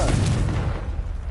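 A Confringo spell blast in Hogwarts Legacy lands as a single heavy, booming explosion with a sharp onset, followed by a rumbling decay, loud and alone.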